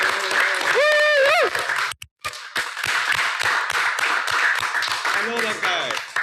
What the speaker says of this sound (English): When I call for a round of applause for Tony